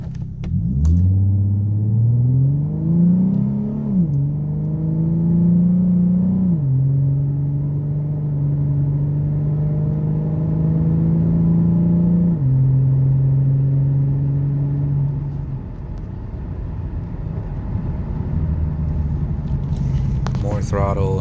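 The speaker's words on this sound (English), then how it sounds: "And now the same throttle input in regular drive." A tuned 3.7 V6 Ford Mustang accelerates under throttle in regular drive mode. The close, loud engine drone climbs in pitch, steps down at each upshift, then climbs again before easing off.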